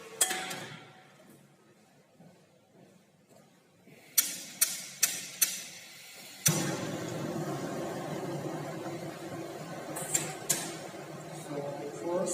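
A kitchen gas stove is switched on under a pot of cold water: a few sharp igniter clicks, then a steady broadband rush as the burner catches and keeps burning.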